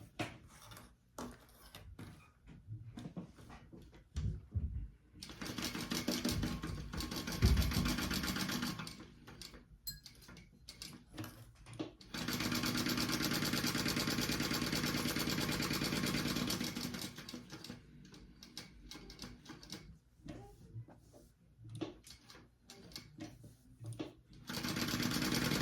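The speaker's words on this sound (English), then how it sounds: "I'm gonna sew along the top, the slanted side, and the bottom." A sewing machine stitches along the edges of sling fabric in several bursts of steady, close whirring, separated by pauses with quieter handling noises.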